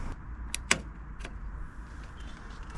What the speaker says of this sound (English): I will close the central locking thing there so that the car thinks that the door is locked